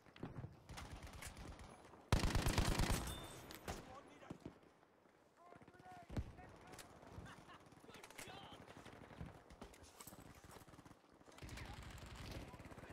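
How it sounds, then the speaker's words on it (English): Breda burst-fire gun in the shooter game Battlefield V, with a loud rattling burst near the start and quieter scattered shots afterward, mixed with game ambience under light talk. "It's a Breda, the burst fire."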